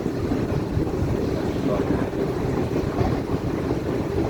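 Wind buffeting a microphone outdoors during a safety test of an escalator handrail UV-C sanitizer, a continuous low rumbling roar with no clear breaks.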